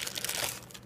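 A small plastic bag holding power management chips crinkles continuously up close, a dense, bright rustle filling the whole brief moment.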